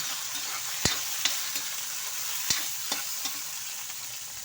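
Onion, garlic, ginger and tomato sauté in a hot pan for a talakitok fish soup, giving a steady close sizzle broken by a few sharp spatula clicks and stirring scrapes.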